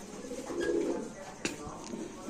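A red-eyed pigeon shown for sale gives a soft, brief coo at close range, faint beneath a voice.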